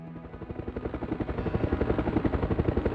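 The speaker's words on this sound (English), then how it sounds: "Helicopter!" A helicopter in the Resident Evil Survivor video game beats its rotor in a steady, rapid thump that grows louder and closer over the three seconds, with no talk over it.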